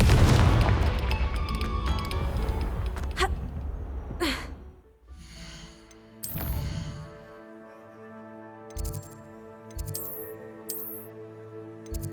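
A Confringo fire spell goes off in the video game Hogwarts Legacy, opening with a loud, deep booming blast that rumbles and fades over a few seconds, followed by lighter game effects and sparse tonal background music.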